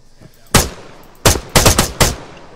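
Rifle and machine-gun gunfire in a military video game: one sharp shot, then a quick burst of four loud cracks close together, heard alone without talk.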